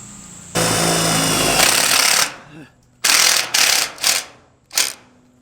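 Power screwdriver driving a screw into two nested tubes, a loud close whirring burst followed by several shorter straining bursts as the screw bites harder.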